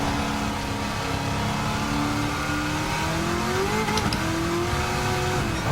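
A modified 1100-horsepower Chevrolet C7 Corvette ZR1 accelerates through a track lap, its engine a loud, continuous close-up roar that rises and falls in pitch through shifts and corners, alone without talk.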